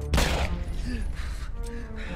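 A single loud gunshot from a pistol in a film scene cracks sharply near the start, then fades into a low, dim, reverberant background.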